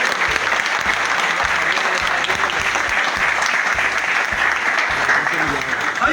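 Loud, sustained applause from a large audience at a Christmas celebration held at a police headquarters, dense steady clapping filling the whole stretch with no voices over it.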